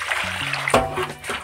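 Running water from a tap or outdoor water source, used for washing produce, splashes and trickles steadily and close by through the whole moment, with a brief louder splash midway.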